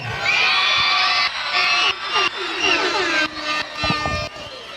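A crowd at a Christmas parade and lighting ceremony featuring decorated golf carts in Franklin screams and cheers loudly, with many voices whooping in sustained bursts that briefly dip and surge again.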